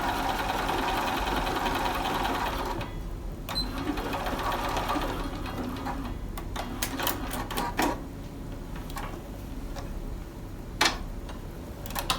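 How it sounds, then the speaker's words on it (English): A sewing machine stitching along a fraying fabric edge to neaten it, running in steady rapid bursts with pauses and clicks between runs, close and continuous without talk. "I'm just going to stitch over the edge just to neaten that up so it doesn't continue to fray."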